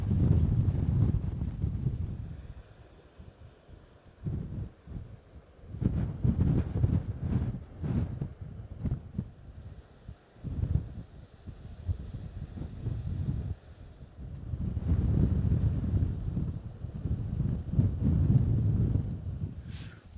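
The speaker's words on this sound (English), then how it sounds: "Wind's due to die down a little bit tonight, so I'm quite happy with that." Strong coastal wind at Flamborough Head buffets the microphone in heavy rumbling gusts that rise and fall throughout, loud and close with no talking.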